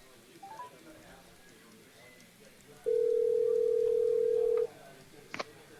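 A telephone dial tone sounds during an outgoing call. The steady tone holds for about two seconds, faint room noise surrounds it, and a short click follows.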